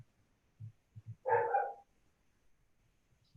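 A dog barks once, a short loud burst, in the middle of a school district board meeting's roll-call vote, with faint low thumps and room noise around it.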